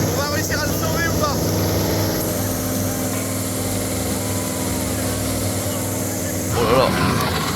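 Small model hovercraft boat motor straining while stuck on sand, a steady buzzing high-pitched engine drone running throughout, with excited voices talking over it.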